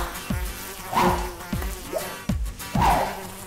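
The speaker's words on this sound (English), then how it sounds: "Yes, this is a room full of flies." Many flies buzz around a room, their droning whine rising and falling as individual insects swoop close and pull away, loud and continuous with no talking.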